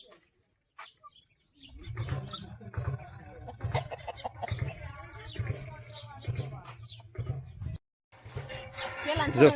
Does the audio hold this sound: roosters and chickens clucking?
yes